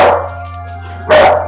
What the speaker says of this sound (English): I don't know how to stop the puppy from barking